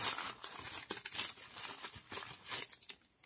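Close, continuous crinkling of plastic bubble wrap packaging, with uneven crackles and rustles that pause briefly near the end.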